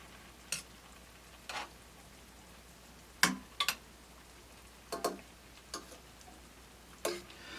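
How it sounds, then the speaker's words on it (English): Brisket chili ingredients frying uncovered in a pot, heard as faint, low sizzling broken by scattered sharp ticks and scraping clicks of a utensil against the pot, with no talking. "Let that fry a little bit."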